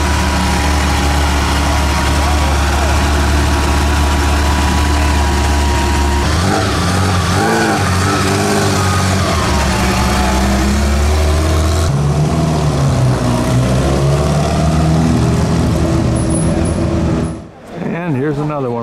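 A vintage Alfa Romeo at the 2017 Mille Miglia: a loud, close engine runs and revs, its pitch rising and falling as it passes, with a voice talking over it before it fades out near the end.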